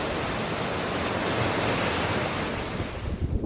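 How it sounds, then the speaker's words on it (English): The waterfall at the Boss Lake Reservoir outlet rushes as a steady broadband roar of falling water, close and continuous, alone without talk, with slight wind buffeting near the end. "There's a nice bridge and a waterfall."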